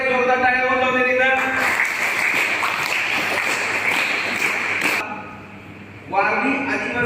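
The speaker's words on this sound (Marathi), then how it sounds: "जोरदार टाळ्या वाजवून द्या." A school quiz audience claps for a correct answer. After a voice speaks, a burst of loud, dense applause from many hands fills a few seconds, then cuts off and talking resumes.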